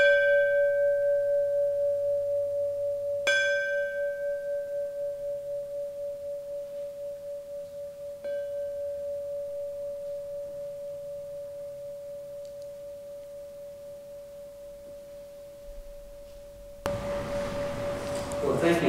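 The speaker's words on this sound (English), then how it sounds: "but first I will ring the bell" A bell rings out with a clear sustained tone, struck again twice to renew the sound, and each ring decays slowly over many seconds before a rush of noise at the end.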